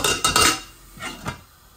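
A metal lid set onto a cooking pot of hilsa and apple sour curry: a couple of quick close clanks and a scrape, then a fainter clatter as it settles, with no talking.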